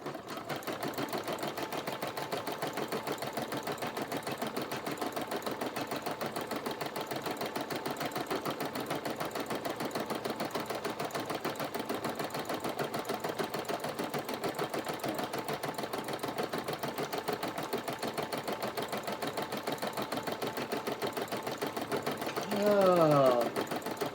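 A sewing machine embroiders on toilet paper, its needle keeping up a fast, steady mechanical hum and rapid stitching rhythm for the whole stretch, close and even, with a brief voice breaking in near the end.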